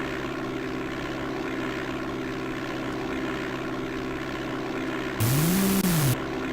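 Propeller aircraft engine droning steadily during a descent in the DOS game Flight Simulator 5.1, a constant buzzing hum with a brief rising-then-falling tone and hiss near the end.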